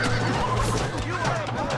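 A horse neighs in Red Dead Redemption, a short whinny heard close up over a busy ambient background, with a voice speaking across it.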